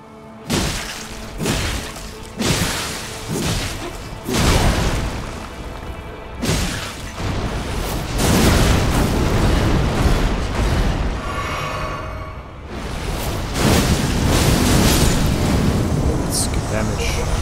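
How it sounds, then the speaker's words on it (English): Explosions from a sword attack in Elden Ring on PC: a rapid series of loud booms, thuds and crashing bursts, some overlapping into a sustained roar, with someone talking over them. "I wonder if that move has multiple explosions that can hit big targets multiple times."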